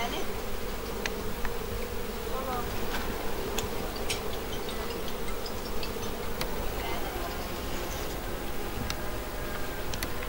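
Bees buzz steadily in a village setting, a continuous insect drone close by with scattered sharp ticks and clicks, and no talk over it.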